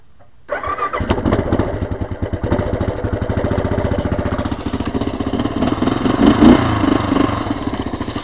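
A four-stroke three-wheeler ATV engine cranks and catches after a short quiet start, then runs steadily at a rapid, loud, close putter with a slight rise in revs near the end.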